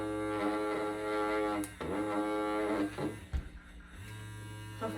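A Brookstone electric massager buzzes steadily at close range with a harmonic motor whine that dips and restarts a few times, interrupted by brief handling clunks, fairly quiet overall.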